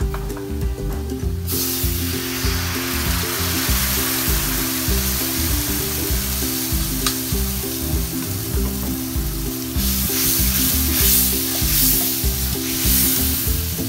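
Blue crabs simmer in mirin sauce in a pan, giving a steady bubbling sizzle and hiss close up, over a loud rhythmic low background hum, with no talking.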